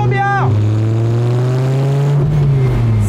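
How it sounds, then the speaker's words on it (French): A Dodge Viper RT/10 sports car engine revs hard, its exhaust note rising and then holding a loud, steady roar close by. "l'échappement étant là, je l'entends plutôt bien"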